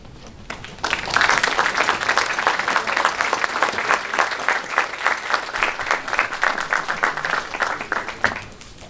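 An audience at a school career association induction ceremony applauds first-year members, clapping that starts suddenly after a quiet moment and continues as a loud, steady, rhythmic wash for about seven seconds before stopping.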